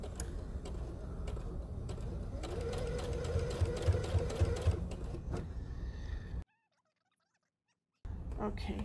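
A sewing machine top stitching around a fabric mask gives a fast, faint mechanical whir with ticking clicks, running a few seconds, then cutting to silence before a short resumption.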